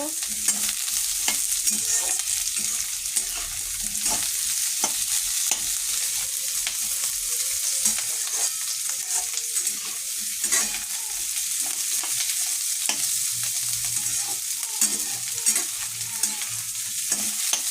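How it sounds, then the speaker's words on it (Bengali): Capsicum for chilli paneer frying in a pan with a steady bright sizzle, overlaid by repeated scraping and stirring knocks throughout, close and continuous with no talking. "এরপরে আমি ক্যাপসিকামগুলো দিয়ে দেবো। একটু ভেজে নেব।"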